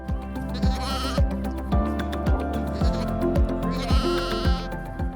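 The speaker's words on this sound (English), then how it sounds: "the Leicester Longwool is actually one of the few breeds of sheep that are still around today" Leicester Longwool sheep bleat repeatedly from close range, several overlapping calls rising and falling over a steady low background, with no talking.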